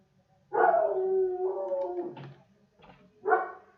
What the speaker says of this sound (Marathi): हे आज शेवटचा त्रास असेल बरं का तुम्हाला या कुत्र्याच्या आवाजाचा